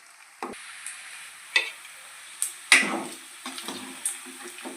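Chicken pieces fry in oil for chicken pickle, with a soft sizzle under repeated scraping stirs of a spoon against the pan, coming in irregular bursts at close range.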